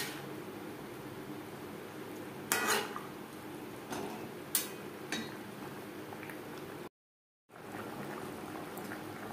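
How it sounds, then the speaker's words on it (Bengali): Fried tangra fish going into simmering gravy in a pan: a few soft clinks and dull knocks of utensil on pan over a quiet, steady bubbling background, with a brief dropout near the end. "এবার দিয়ে দেবো ভেজে রাখা মাছ। গ্রেভির সাথে মাছ আরও 4-5 মিনিট রান্না করব।"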